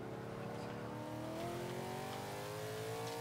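Ultima GTR engine in Forza 5 holds a steady, loud drone with rising harmonics as it revs under throttle, continuous with no speech over it.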